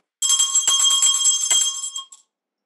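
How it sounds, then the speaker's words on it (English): A bell or buzzer sounds to end a simulated social work interview, giving one bright, sustained ring of about two seconds that starts suddenly and then fades in a quick stutter. "A bell or buzzer rings to alert participants that the interview is over"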